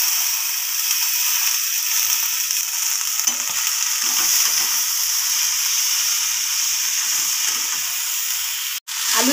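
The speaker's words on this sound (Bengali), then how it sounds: "আমি এর ভিতরে পেঁয়াজকলি আর আলুটা দিয়ে দিচ্ছি।" Spring onions and potatoes fry in hot oil seasoned with black cumin seeds. A loud, steady, close sizzle runs throughout, with a single sharp click near the end.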